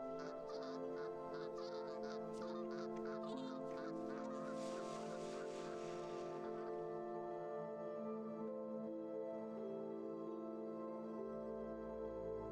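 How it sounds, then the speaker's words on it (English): Geese and goslings forage together in Ohio, honking in repeated calls for the first few seconds, then a soft, continuous murmur of calls over steady background sound. "Goslings and adults forage together by day, using strong bills to clip vegetation or dig for tubers."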